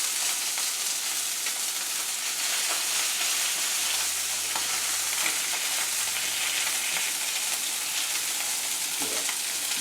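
Thin haddock fillets frying skin-side down in a hot pan, giving a steady, dense sizzle and crackle with no pauses, close and fairly loud throughout.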